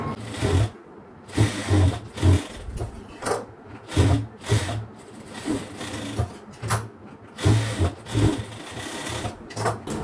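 A sewing machine stitches a half-circle maxi dress with a princess cut, running in short rhythmic bursts of close mechanical whirring separated by brief pauses.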